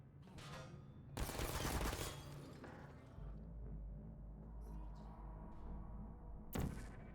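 Turret gunfire in the video game Portal, a sustained loud burst of rapid automated shots followed by low humming, thumps and a final sharp burst, with no talk.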